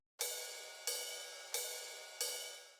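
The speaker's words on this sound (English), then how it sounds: "I added in this ride cymbal." Ride cymbal in a boom bap drum loop, four evenly spaced bright strikes, each ringing out with a long shimmering wash that decays into the next hit, close and clear with no voices.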